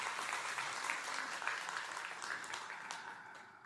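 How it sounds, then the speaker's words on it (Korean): Church congregation applauding together, a steady dense clatter of many hands held at an even level for several seconds, slowly tapering off toward the end with no voices on top. "예, 뜨겁게 박수 한번 해주세요."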